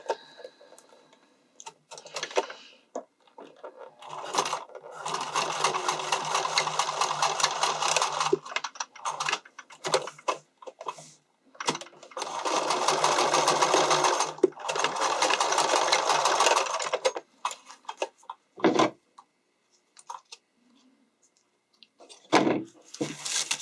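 A sewing machine stitches down bikini strapping on an underwire bikini top, running in several long bursts separated by short pauses, close and fairly loud, with a few brief handling knocks near the end.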